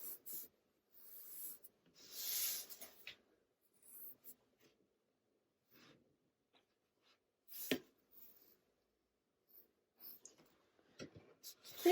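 Pen scratching across paper while sketching a face, in short separate strokes with quiet pauses between them, with one sharper scrape near the middle.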